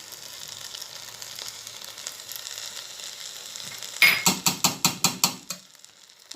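Chicken with spices and curry frying in a pan for biryani, a low steady sizzle followed by a quick series of about seven sharp scraping stirs, then the sizzle settles again.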